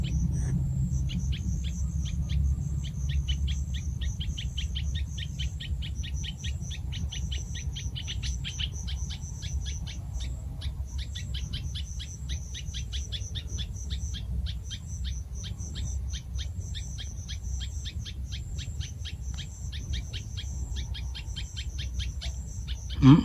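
Wild bird calling repeatedly near its nest, a rapid train of sharp high chattering notes repeated steadily over a low rumbling background, moderately near, with insect-like buzzing and no voices.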